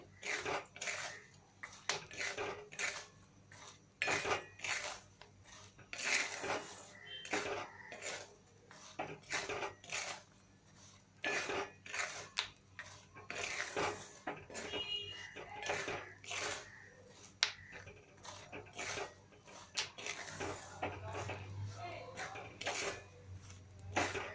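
Peanuts roasting in salt in a pan are stirred steadily, giving a continuous run of gritty scraping and rattling strokes that stay close and fairly loud for the whole stretch, with no talking.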